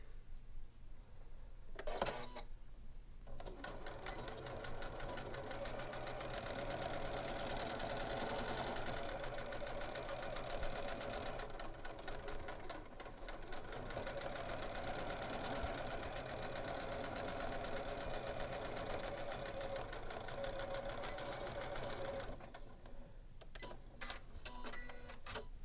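A Janome sewing machine runs steadily for a long stretch while top stitching along the edge of a bag seam, giving a continuous close mechanical whir with brief starts and stops at either end.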